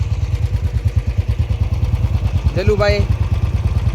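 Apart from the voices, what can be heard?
motorcycles starting and idling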